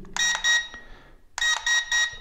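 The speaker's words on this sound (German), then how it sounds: "Einmal piepsen, normale Geschwindigkeit, zweimal schneller, dreimal ganz schnell." A drone's remote controller beeping its speed setting: a single short pair of electronic beeps, a pause, then a run of three quick beeps, clear and close with no talk.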